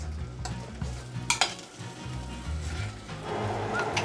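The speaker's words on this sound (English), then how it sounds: "you just mix and cook it up. This should take like 3 to 4 minutes until the pork becomes fully cooked" Pork is stirred and cooked in a pot for soft tofu stew, with repeated utensil scrapes and clinks over a low, steady sizzle, close by, with no voices.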